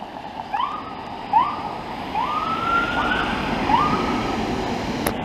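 Paramedic ambulance siren responding on a road in Montreal, sounding as a series of rising wails over steady traffic rumble, with no talk.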